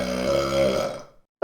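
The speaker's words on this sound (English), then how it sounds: "the burps of people full on potatoes" A single long, loud burp from a person full on potatoes, rumbling for about a second before cutting off, then a short sharp voiced sound right after.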